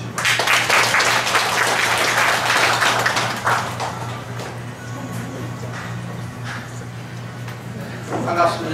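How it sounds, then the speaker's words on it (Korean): A seated audience at a literary society gathering of poets, essayists and novelists applauds loudly to welcome a speaker, the clapping strong for several seconds then thinning out, with a low steady hum underneath. "박수로 환영해 주십시오."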